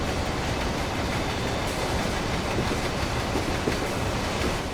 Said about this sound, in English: Those wagons make a nice noise.